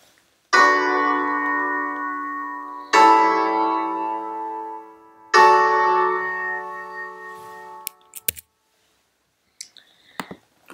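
Three struck harmonic chords form a dominant seventh progression and its resolution, each chord ringing out and slowly fading. A few faint clicks follow in the quiet afterwards.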